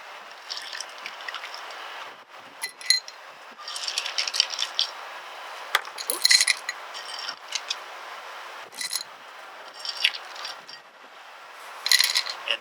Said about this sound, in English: I'm going to add some ice to the glass.